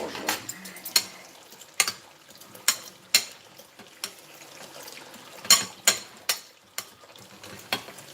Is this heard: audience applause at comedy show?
no